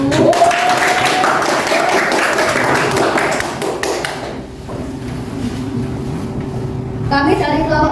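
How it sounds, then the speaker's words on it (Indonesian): A classroom audience claps for a student group, busy overlapping claps in the first half that thin out and fade, followed by quieter room noise and a brief clatter near the end. "tepuk tangannya dulu buat kelompok 1"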